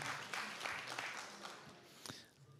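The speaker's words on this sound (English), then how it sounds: "Could we please applaud all the people that don't leave the house with a cell phone or don't own one?" An audience at a TEDx talk gives steady, moderate applause, a dense patter of clapping that fades slightly toward the end.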